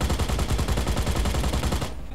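Rapid steady stream of manually fired mech guns in the Mech Arena robot battle video game, a loud, even rattle of shots that cuts off abruptly at the end.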